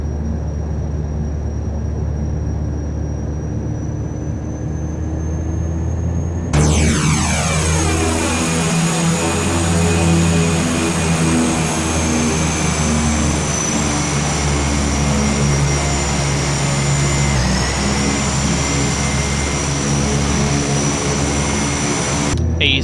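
A Carenado Short S360 twin-turboprop in a flight simulator drones steadily at idle, then its engine pitch surges sharply as power comes up and the aircraft starts rolling, holding a loud, continuous whine with no talk.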